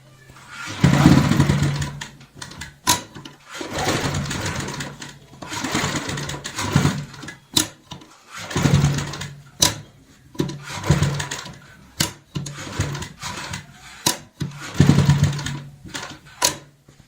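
A sewing machine stitches a round piece onto a cushion cover in repeated whirring runs of a few seconds each, separated by short pauses and clicks, loud and close.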